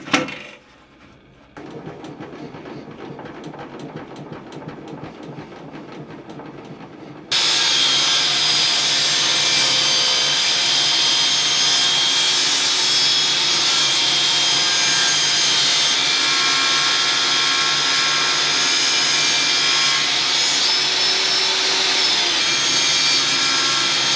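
A power saw cuts a wooden strip to fit a slot for a workshop sled jig, starting with short intermittent buzzing bursts, then settling into a loud, steady, continuous whine that runs on unbroken to the end.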